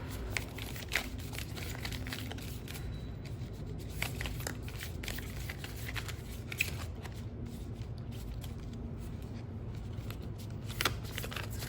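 Tarot cards being shuffled by hand, soft continuous riffling and rustling with a few sharper flicks, close and quiet, no talk.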